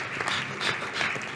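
Scattered audience applause at a conference session on a forum stage, a moderate, uneven patter of clapping hands that swells briefly in places, with no talking.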